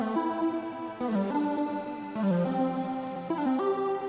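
A soft synth melody steps through a few sustained notes in short phrases, fairly quiet and alone.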